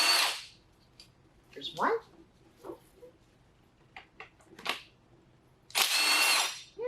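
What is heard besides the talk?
impact wrench removing 12 millimeter transmission bolts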